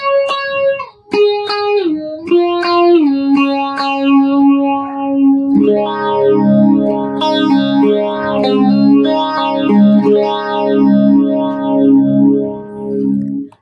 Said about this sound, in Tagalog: ito yung sound ng ating pacer